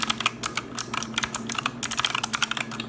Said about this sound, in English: here's a typing test for you so you can kind of hear what the purple optical switches sound like